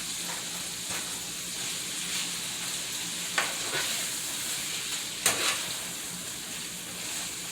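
Ground beef with onions and vegetables fries in a pan, giving a steady close sizzle throughout with a couple of brief sharper crackles or stirring scrapes.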